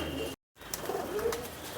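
Pigeons coo softly at a loft of Kaka Jatt's champion high-flying racing pigeons, a low murmuring call repeating over a brief silent gap, with no talk.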